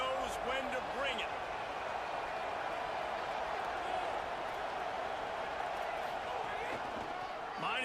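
Stadium crowd roar in a college football video game, Louisville against Oklahoma, a steady dense wash of cheering that holds throughout with faint commentary voices underneath.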